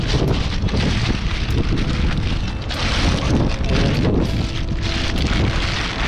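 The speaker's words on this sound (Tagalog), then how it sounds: "Pinalakas po ng hangin." Strong wind gusts roar steadily over the open sea from a fishing boat, a loud continuous broadband rush with buffeting microphone wind noise throughout.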